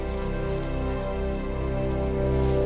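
Steady rain falls on a hiker in a raincoat on the Inca Trail, a dense continuous wash of sound close by with a low constant rumble beneath it.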